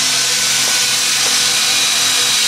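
A power drill whirs in a car garage where an intake manifold is being worked on, a loud, steady broadband whine running the whole time with no pauses and no voices.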